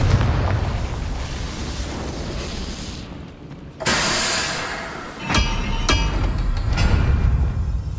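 Confringo fire spell blasts in the video game Hogwarts Legacy, heavy booming explosions with crackling bursts, one loud impact mid-clip followed by another sharp blast and rumbling debris over continuous game noise.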